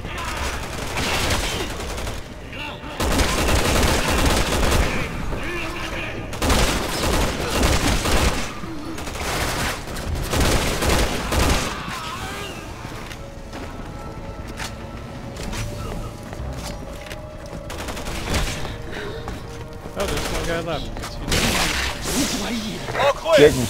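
Gunfire in Resident Evil 6 during a co-op rooftop fight in Chris's chapter: repeated bursts of rapid shots and crashes come in waves over about twenty seconds, loud and close.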